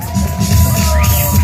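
A hip hop event crowd cheering and whooping in a short, loud, dense burst of audience noise with a voice ringing over it.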